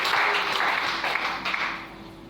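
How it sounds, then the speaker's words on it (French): A church congregation applauds the Lord, a dense, steady wash of many hands clapping together that carries on for a couple of seconds before thinning out. "Est-ce qu'on peut acclamer le Seigneur?"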